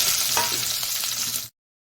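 Chopped onions frying in hot oil, a dense close sizzle with stirring scrapes that stops abruptly, no voices.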